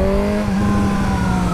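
A Suzuki GSX-S1000 motorcycle engine howls steadily at high revs, loud and close for a brief moment with no talking.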